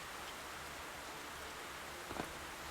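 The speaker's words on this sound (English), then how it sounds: "Well, it's still raining, but it's calmer." Steady rain falling in Stormworks, an even hiss of downpour throughout with no talk, one faint brief knock near the end.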